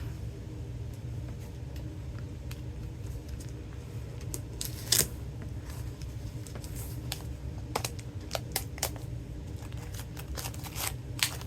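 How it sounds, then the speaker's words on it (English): Steel snips cut through paper and packaging while a paper crafting kit is unpacked: sharp, irregular snipping clicks, close and distinct, over a low steady background hum. "Let me grab my snips."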